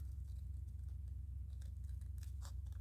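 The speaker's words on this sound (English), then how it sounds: "And let's see how well I can cut this cat out." Scissors snip steadily through paper as a cat image is cut out for a collage, making quiet repeated cuts over a low steady hum.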